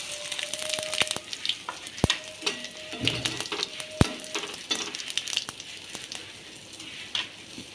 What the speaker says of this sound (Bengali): তেল গরম হয়ে গেছে আমি তেলের মধ্যে জিরে শুকনো লঙ্কা পাতা ফোড়নে দিয়ে দিচ্ছি